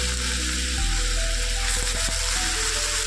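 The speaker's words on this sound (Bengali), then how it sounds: "এই ঘিয়ের মধ্যে এবার লাউটা গ্রেট করা যেটা আছে সেটা ভালো করে সুন্দর করে ভেজে নেব" Grated bottle gourd hits hot ghee seasoned with cardamom and bay leaf, giving a loud, steady sizzle that fills the whole stretch, with faint clinks of stirring near the middle.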